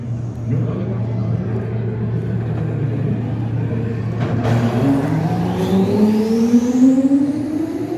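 An Alpine race car drives through the city centre during the Le Mans 24 Hours parade, its engine rumbling loudly and rising in pitch as it passes close by, with crowd voices underneath.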